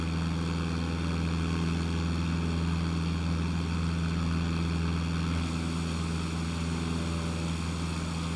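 Steady, loud drone of a Cessna 152's propeller engine in a flight simulator game, cruising at altitude over water with a constant hum and no break across the whole stretch.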